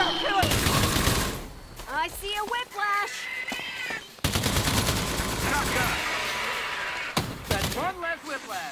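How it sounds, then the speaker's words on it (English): Shotgun blasts boom in the Earthfall video game, several loud bursts in a row amid game noise. A player shouts over them. "Shotgun!"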